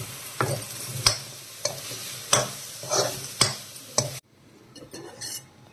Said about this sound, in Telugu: ములక్కాడలు వేసుకోవాలండి.